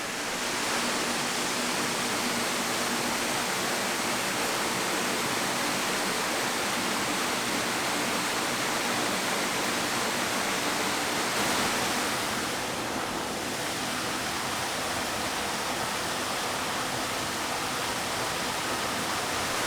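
A waterfall pours beside a cave campsite with a small sandy beach, a dense, steady roar of falling water filling the whole clip at close range with no letup.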